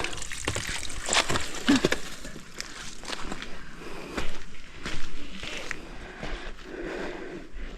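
Stream water trickles and splashes steadily along a hiking trail in Linville Gorge, a continuous close wash of sound with a few louder gushes and no clear speech.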